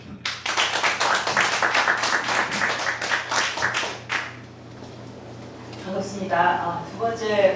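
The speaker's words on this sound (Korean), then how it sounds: "큰 박수 부탁드립니다." A lecture audience gives brisk hand clapping, a close, fairly small group applauding for about four seconds before it stops and a voice begins speaking.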